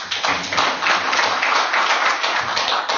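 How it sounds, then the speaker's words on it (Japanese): Loud, close clapping fills a Japanese city council chamber at the end of a general question session, dense and even with little rise or fall. "拍手しよう"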